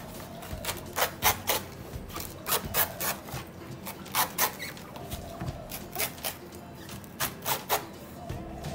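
A short, thick, strong knife twists into a coconut shell to pry it open, giving repeated rhythmic scraping, grinding rasps in short bursts, close and fairly clear.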